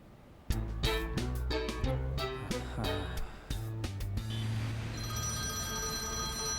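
A telephone rings with rapid repeated bell trills, loud and close, then stops, leaving a faint high electronic tone.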